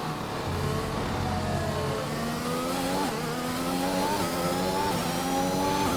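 An F1 car engine in the F1 2021 video game, at the Chinese Grand Prix, revs and pitches up and down as the throttle is dabbed, its whine climbing steadily and sustained throughout without any talk.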